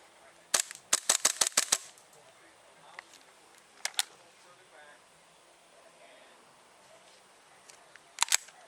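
A KJW KC02 .22-style airsoft rifle fires semi-auto: a quick string of about six sharp snapping shots, then a lone pair, then another pair near the end, crisp and close with quiet gaps between.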